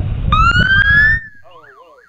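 A short burst of a rising electronic police siren wail, from a siren unit at a Christmas parade, cuts off abruptly, followed by a quieter warbling yelp, loud and close.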